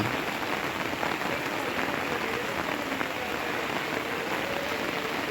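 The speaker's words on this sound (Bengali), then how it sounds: "এভাবে যদি বৃষ্টি হয় তাহলে আরও অনেক পানি বেড়ে যাবে" Steady, heavy rain pours down during flooding in Sylhet city, a dense unbroken hiss that holds at the same loudness for the whole stretch, with no voices.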